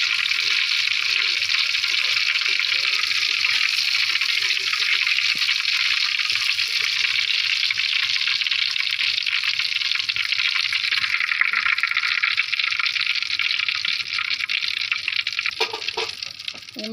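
Hilsa fish pieces being slid one by one into hot oil, producing a loud, steady, close hiss of frying that holds evenly throughout and fades slightly at the end.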